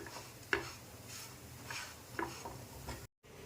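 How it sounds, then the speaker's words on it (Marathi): Gram flour roasting with spices in a pan, heard as a faint, low sizzle with a few soft scrapes and taps of the spoon against the pan, up close and without speech. "हे बघा 2 ते 3 मिनिटानंतर आपलं हे बेसन पीठ इथं चांगलं भाजून झालं आहे."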